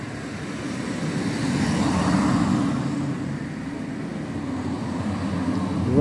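A drone flies steadily over a coastal area, a constant droning buzz with a low hum that swells slightly and then holds, fairly close, with no talking.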